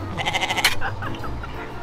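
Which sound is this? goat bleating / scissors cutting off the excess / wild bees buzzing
goat bleating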